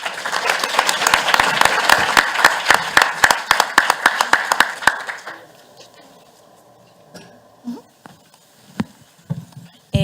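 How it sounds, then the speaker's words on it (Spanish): Audience applause welcoming a speaker at the Shaping Colombia 2019 education forum: about five seconds of loud, close clapping with distinct sharp claps, then it dies away to quiet room noise and a few stray knocks. "por favor, acompáñenme con un aplauso para darle la bienvenida a Ana María Rodríguez."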